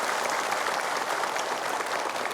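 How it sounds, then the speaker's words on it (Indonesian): A studio audience at a religious talk show applauds in a dense, even wash of clapping, loud and continuous throughout with no talk over it. "Tepuk tangan buat semuanya."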